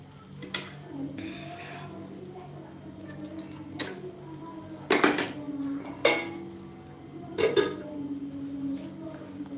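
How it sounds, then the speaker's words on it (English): Green beans and carrots being stir-fried in a pan. Several sharp metallic clanks of a utensil against the pan come at irregular intervals over a quiet steady hum, with no sizzle evident. "So this is what we call also stir frying."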